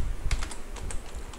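Quick keystrokes on a computer keyboard, a light irregular clatter of separate taps, fairly faint and close, with no speech.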